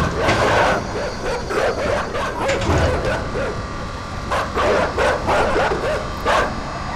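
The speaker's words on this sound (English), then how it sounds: "Get out of here, dogs." Several dogs bark and yip in bursts in the video game INSIDE, loud and close, with repeated overlapping barks over a rumbling background and no speech.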